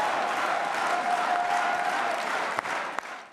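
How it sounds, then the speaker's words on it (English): Crowd cheering and applauding as Friedrich Merz arrives after his party's German election win, a dense steady roar of clapping and voices throughout, loud and close, with a couple of sharper claps near the end. "Welcomed with cheers and applause"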